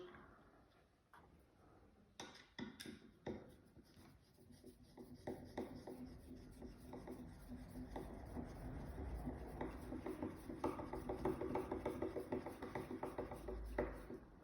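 40mm screws are driven into wood during a woodworking build, producing a steady, close grinding and ticking rasp that builds and continues for several seconds after a few sharp clicks, with no talk.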